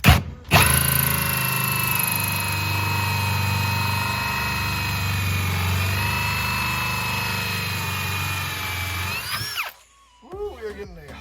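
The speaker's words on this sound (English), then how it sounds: "we are getting a hot drill bit" A power drill whines loudly and steadily for about nine seconds, its hot bit's pitch dipping slightly under load, then cuts off, followed by a brief spin-down.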